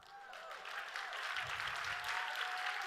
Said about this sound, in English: Thank you for that sympathy applause.